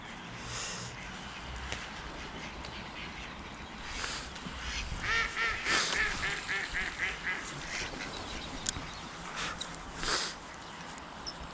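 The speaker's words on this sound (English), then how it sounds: "All the ducks coming my way." Several ducks on a canal quack nearby in bursts, a cluster of calls in the middle and a few scattered quacks later, over a quiet outdoor background.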